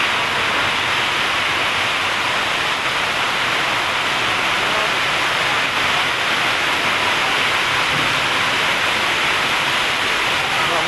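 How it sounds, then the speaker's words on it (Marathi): Torrential monsoon rain in Pandharpur, heard from shelter, as a dense, constant roar of downpour filling the whole stretch at high loudness with no breaks and no voices. "पंढरपूरमध्ये जे मुसळधार पाऊस चालू आहे"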